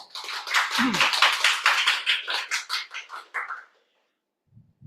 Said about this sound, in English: Please give a round of applause to Toastmaster Dinda